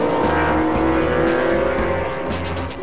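Porsche GT1 race cars roaring at Le Mans, a loud sustained engine drone with shifting revs and a pulsing rhythm as cars pass, close and continuous with no talk.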